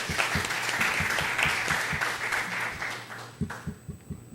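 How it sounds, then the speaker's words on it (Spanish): Audience applause at a football-and-power panel discussion during a football film festival, a steady wash of clapping close by that thins out and fades near the end. "Un aplauso."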